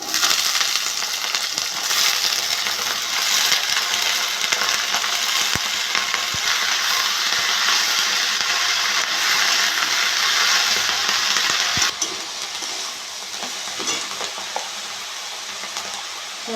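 Potatoes and santi greens frying in oil in a pan over fried onion and chilli, a loud, dense sizzle with rattling and stirring that quiets noticeably after a few seconds.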